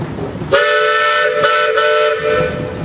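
A steam whistle on a Kitten steam engine at a parade gives one loud, sustained blast of about two seconds, close by, with a brief dip partway through.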